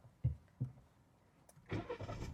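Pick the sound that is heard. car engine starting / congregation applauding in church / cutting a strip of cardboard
car engine starting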